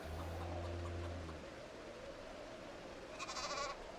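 A farm sheep in the Project Zomboid video game lets out one drawn-out bleat at the start, with quiet ambient noise and a faint brief chirp following.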